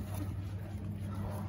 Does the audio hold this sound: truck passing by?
yes